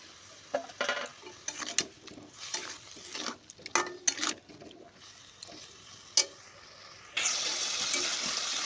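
Onions, tomatoes and ground spice paste with turmeric cook in a pan for an egg curry, heard as irregular stirring scrapes and bursts of sizzle, ending in a loud, continuous hiss of frying.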